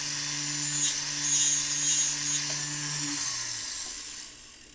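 Close, steady rasp of a fine piercing saw cutting metal, with strokes swelling in bursts before tapering off near the end, a low hum underneath.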